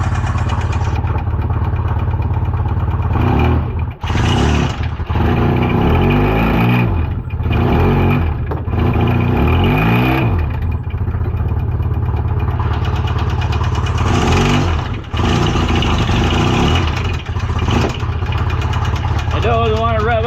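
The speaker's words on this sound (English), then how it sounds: "I don't want to rev out because it's like seizing itself together." Ailing engine that still holds oil pressure but seems to be seizing, running close and loud with a rough, labouring drone and a few uneven swells in pitch rather than sharp revs, continuous throughout.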